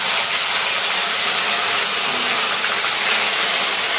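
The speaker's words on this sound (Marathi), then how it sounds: "जिरी मोहरी फोडणी देऊन मसाला टाकायला लागला" Cumin and mustard seeds sizzle in hot oil, tempering a village-style dal, as a steady, loud crackling hiss that runs unbroken throughout.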